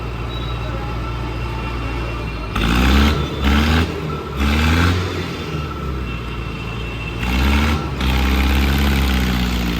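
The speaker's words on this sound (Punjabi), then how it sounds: "ਹੁਣ ਬੈਕ ਕਰਦੇ ਦੇਵੇ ਟਰੈਕਟਰ" A heavy tractor engine idles with a deep, steady rumble, revving up in several surges nearby as it reverses.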